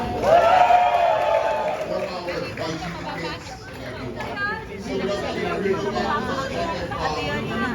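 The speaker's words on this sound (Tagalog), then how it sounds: "Pumalakpak kami kasama hiyawan!" Guests at a Christmas party in the Manila Grand Opera Hotel make lively crowd noise with scattered clapping and cheering mixed into busy chatter, while a voice speaks over it at the start.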